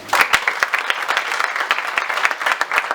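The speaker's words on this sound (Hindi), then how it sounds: "चलिए आप सभी के सम्मान में एक बार तालियां बजा दीजिए।" Loud, close applause from a seated audience at a religious gathering with a poetry recital, many hands clapping densely and continuously for the whole stretch without any voices.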